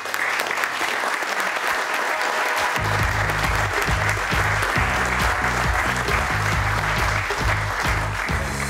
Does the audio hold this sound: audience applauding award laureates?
yes